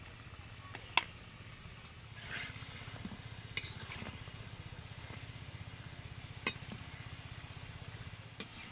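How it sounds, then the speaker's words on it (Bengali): Gulab jamun dough balls frying in hot oil, a steady low bubbling sizzle running throughout with occasional faint clinks, fairly quiet and close, no talking. "বাকি গোলাপজামগুলো একইভাবে ভেজে নেবো"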